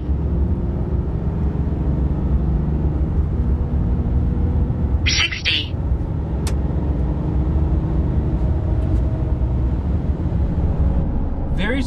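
A 2023 RAM 2500 Rebel HD heavy-duty pickup on 40-inch tires accelerating hard from 0 to 60, its engine a steady, loud roar heard from inside the cab with a brief clatter midway.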